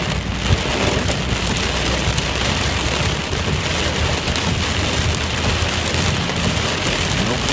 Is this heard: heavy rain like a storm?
yes